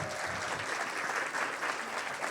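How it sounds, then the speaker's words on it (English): Brief, steady clapping from an audience at an opening session, many hands applauding together at moderate volume without pauses. "Clap it up for them."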